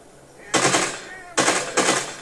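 Gunfire in the zombie video game Dead Rising 2: three sharp, loud bursts of shots, each decaying over a fraction of a second, following a quieter lead-in.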